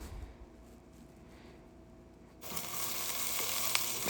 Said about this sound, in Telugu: ఫ్రై చేయండి.